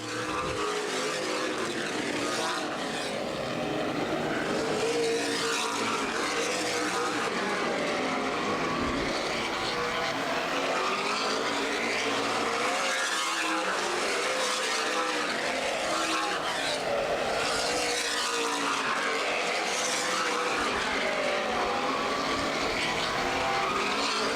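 CRA Super Series stock cars racing at Anderson Speedway during the Redbud 300, a continuous loud roar of engines passing and echoing around the short oval, with occasional tire squeal and no speech.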